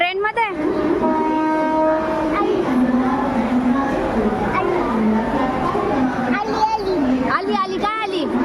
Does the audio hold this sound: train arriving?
yes